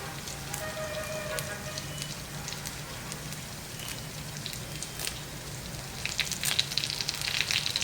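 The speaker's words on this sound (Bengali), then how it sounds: "কারি পাত্তাটা দিয়ে ভেজে নেব ডালের সাথে" Curry leaves and lentils crackle and sizzle in a hot pan, a steady frying hiss with scattered pops that grow louder and busier toward the end.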